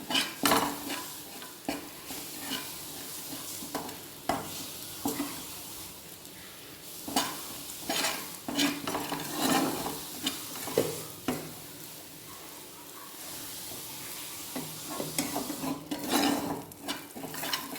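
Food for paneer butter masala sizzles in a pan as a utensil scrapes and stirs repeatedly, with irregular metallic clinks against the pan close by.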